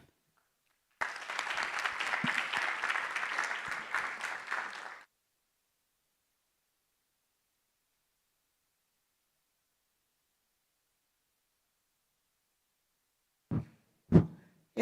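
Applause from a small conference audience at a Caribbean regional risk conference, a steady burst of clapping lasting about four seconds, followed by silence and a few sharp knocks or taps near the end.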